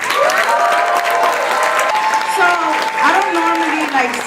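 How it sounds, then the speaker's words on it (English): A crowd at a rally against a war over Venezuelan oil applauds a Bronx student activist as she comes up to speak, giving steady, dense clapping with cheers and whistles above it, loud and close throughout. "So give her a round of applause."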